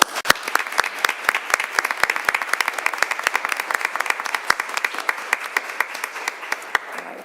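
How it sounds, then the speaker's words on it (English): Sustained audience applause at a board of education meeting, a dense wash of many hands clapping steadily at close range, no voices over it, continuing for several seconds before tapering slightly at the end. "I want to offer one last round of applause"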